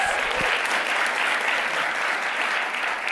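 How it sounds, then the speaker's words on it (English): A conference audience at a demo day for a generative AI accelerator applauds steadily for the full stretch, dense and even with no break, with no talk rising above it. "Let's give them another round of applause."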